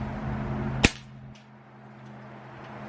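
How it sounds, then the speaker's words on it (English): A single sharp crack from a Crosman 2100 Classic air rifle firing a Crosman Premier hollow-point pellet, close and loud, followed by a faint tick and quiet room hum. "I'm actually gonna shoot a second group using the Crosman Premiar hollow points."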